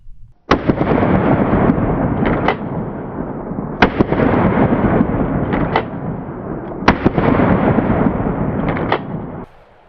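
An Axor Arms Bushpig XT shotgun fires HV34 shells in repeated loud, close blasts, several in quick succession and each followed by a long rumbling echo.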